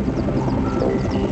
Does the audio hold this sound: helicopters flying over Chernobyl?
yes